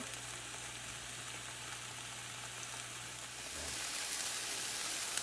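Tomatoes cooking down in a pan for steak fettuccine give off a faint, steady sizzle and soft bubbling, growing slightly brighter and louder near the end, with no voices.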